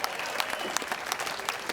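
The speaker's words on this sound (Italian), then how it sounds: "Vorrei un super applauso anche per i miei super colleghi bravissimi" Open-air audience in Piazza Manzoni, Jesolo, applauding a band's colleagues at a summer concert: brief, brisk crowd clapping with scattered sharper claps, fairly even and moderately loud.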